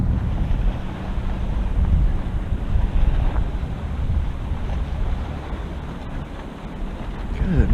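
Rough water and gusting wind around a kayak, a constant loud rush of waves and wind buffeting the microphone, with no pause for the whole stretch.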